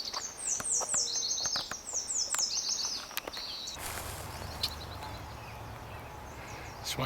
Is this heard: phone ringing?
no